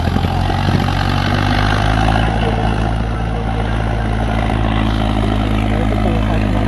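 A Mahindra 555 50 HP tractor engine runs steadily nearby, a loud, continuous low rumble with a constant throbbing drone and no speech over it.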